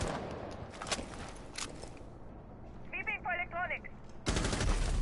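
Gunfire in a competitive video game match with shots at the start and a heavy burst erupting near the end, heard under a commentator's fast play-by-play talk; some chirping in-game tones sound in between.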